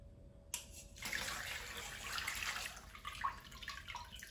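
Salted green cabbage being rinsed in a second basin of water to remove excess salt, with continuous splashing and sloshing water starting abruptly, close and moderately loud, with occasional drips and no talk.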